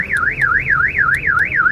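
A car alarm wails loudly and close by during aftermarket central locking remote pairing, its pitch rising and falling in a rapid, steady cycle, with faint clicks underneath.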